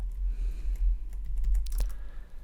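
Soft keyboard typing on a computer during Photoshop work, a run of light key clicks ending in a sharper keystroke like Enter, heard over a steady low hum.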